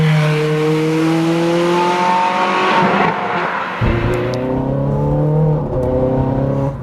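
A Ferrari 430 Scuderia's engine revs and accelerates loudly and up close, its rising harmonic tones climbing in pitch, dropping at a gearchange, then climbing again.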